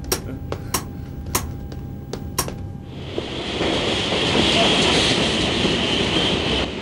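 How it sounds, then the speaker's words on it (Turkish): An Istanbul train passes, with sharp metallic clanks repeating at first, then a broad steady rumbling roar building as it rolls by, loud and close. "İstanbul treni değil mi?"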